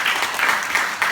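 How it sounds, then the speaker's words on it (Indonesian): A short burst of audience applause at a business presentation event rises in soft, overlapping waves, a diffuse patter of many hands heard from a distance. "Oke, beri tepuk tangan buat Bu Sinta."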